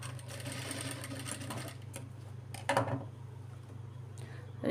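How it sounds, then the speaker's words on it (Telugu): Sewing machine running steadily while stitching a lock stitch at the end of a seam on a child's lehenga blouse fabric, a continuous close whir with a brief louder burst near the end and no talk. "స్టిచ్ చివర ఎప్పుడు కూడా లాక్ స్టిచ్ వేసుకోవాలి"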